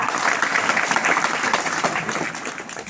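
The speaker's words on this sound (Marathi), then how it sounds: "अहो, टाळ्या वाजवा." A crowd applauds steadily for a few seconds at a Shivaji Maharaj Jayanti gathering in Daundwadi, Jamkhed, dense clapping that stays close and fairly loud throughout.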